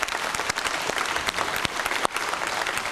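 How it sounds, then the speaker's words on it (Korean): Applause at a political party meeting, with a room of people clapping steadily and loudly in a dense patter, with scattered sharper claps standing out and no talk over it. "협상의 노고를 아끼지 않고 열심히 해주신 우리 주호영 원내대표에 대해서 박수를 한번 보내주십시다."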